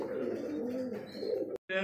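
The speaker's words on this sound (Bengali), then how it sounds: "সুপার কোয়ালিটির এক জোড়া আপনার আমেরিকান ফ্যান্টার" A pair of American fantail pigeons cooing at close range, a brief low rolling coo that fills the moment before a short cut.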